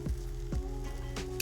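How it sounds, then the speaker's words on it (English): Food sizzles steadily in a hot pan pressed down under a heavy weight, a continuous close crackle with a few brief louder pops. "Put something heavy right back on top and just let that sizzle."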